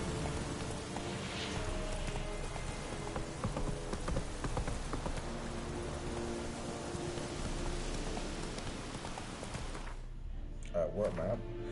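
Roach the horse trots through The Witcher 3: Wild Hunt with steady clip-clop hoofbeats, backed by rain and game ambience, and a player talking over it.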